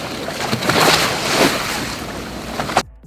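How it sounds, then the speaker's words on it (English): Sea waves slap and wash against a boat hull in close, irregular surges amid wind noise, building to a sharp splash just before cutting off abruptly. "I found the sound of waves hitting a boat,"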